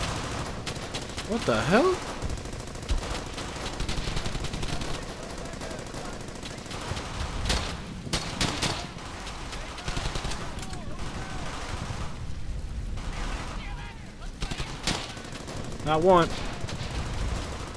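Machine gun bursts and scattered gunfire in the World War II shooter Brothers in Arms: Hell's Highway, continuous battle noise with louder rattling flurries, while someone talks over the combat.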